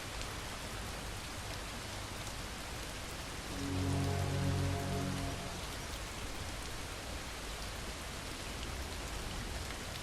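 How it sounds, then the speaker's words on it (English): Steady rain hisses continuously in the Far From Noise video game, a dense even wash with a brief low rumble swelling in the middle. "Here comes the rain."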